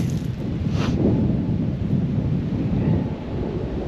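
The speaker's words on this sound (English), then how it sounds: "It just starts, because it's the constant wind, it just starts to dry my tent out, then it rains again." A constant wind and rain storm batters the outside of a tent, giving a loud, steady rumbling roar with gusty swells and no voices throughout.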